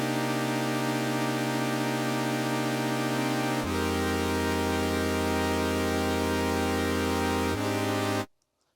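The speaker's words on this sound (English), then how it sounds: "So for my next sound, I'm using the default Omnisphere patch. And that's the first patch that you open up to." The default Omnisphere synth patch plays a steady, bright sustained chord, shifting to new held chords twice before cutting off abruptly into silence.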